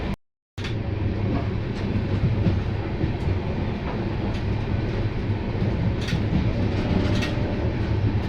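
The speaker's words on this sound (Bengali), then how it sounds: "রাতের অন্ধকারে ট্রেন হলদি নদী ক্রস করলো" An express train runs through the night across the Haldi river, a loud steady rumble with rhythmic clickety-clack of wheels on rail joints and occasional sharp knocks, heard from inside a coach after a brief silence at the start.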